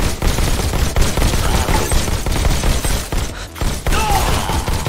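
Rapid bursts of shotgun and gunfire blasts from robots in the VR shooter Robo Recall, loud and dense throughout with shattering clatter and thuds, nearly continuous volleys with brief gaps.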